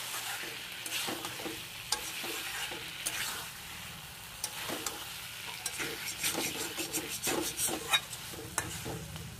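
Chicken and fried potatoes stir-fried together in a pan, a steady sizzle under repeated scraping and clinking of the spatula, fairly close and moderately quiet, with no talk.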